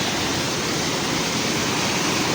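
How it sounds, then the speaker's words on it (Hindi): Heavy rain in Kashmir with swollen streams and waterfalls makes a loud, steady, dense rush of water that fills the whole moment without a break. "बहुत तेज़ बारिश हुई है"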